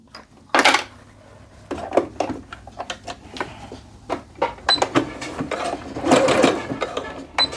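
A home sewing machine stitches a 5/8 inch seam on a pair of joggers, sounding as irregular clattering bursts and ticks of the mechanism with pauses between stitching runs.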